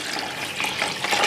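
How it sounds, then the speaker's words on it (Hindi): Water poured from a 1-litre mug into a container of flavoured drink mix, a steady close splashing rush that runs on without pause and swells slightly toward the end. "इससे मैं अब इसमें पानी ऐड करूँगा"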